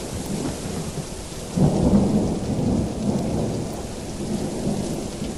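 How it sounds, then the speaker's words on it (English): Steady rain pours down through a thunderstorm at a dog park, with a low rumble of thunder swelling in the middle and rolling on beneath the constant hiss of rainfall. "The rain's still coming down good."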